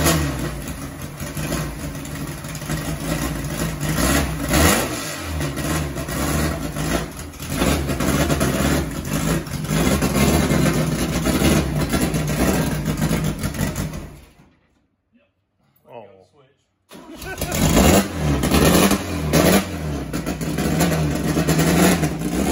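Engine of a 1971 Volkswagen Baja Beetle with a heavily built engine revving repeatedly, rough loud blips over a steady idle, cutting out briefly to near silence before firing back up and revving again.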